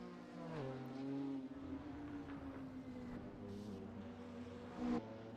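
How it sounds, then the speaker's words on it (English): A GT4 race car's engine drones through a hairpin at Cathedral Rock in Assetto Corsa, its pitch easing and swelling under patient throttle with a brief rise near the end, heard distant and fairly faint. "Just have to hear how patient he is on that throttle, heading around that hairpin."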